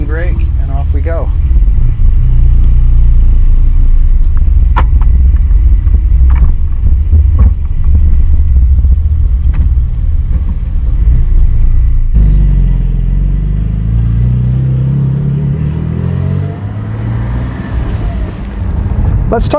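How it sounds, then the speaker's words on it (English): A Porsche 718 Spyder drives off, its engine a loud, deep rumble that rises and shifts pitch as the car gets moving, with wind and road noise around it. "Release the e-brake and off we go."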